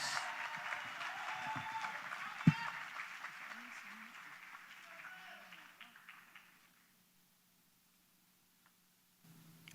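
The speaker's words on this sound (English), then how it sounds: "Round of applause." Applause from the audience at the First Citizens National Poetry Slam 2020 finals in Trinidad and Tobago, a loud burst of clapping that gradually fades out over several seconds, followed by near silence.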